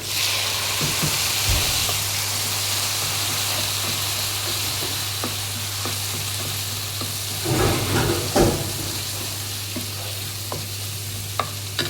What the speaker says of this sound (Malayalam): അപ്പോൾ ഉള്ളി ചോന്നു, ഇനി തക്കാളി ഇടുക.